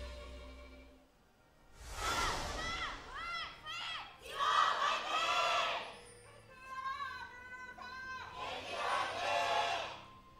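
Stadium crowd at a League of Legends match between SKT and KT in Seoul, swelling into loud bursts of cheering and shouting in three waves, with an announcer's voice faintly audible between them.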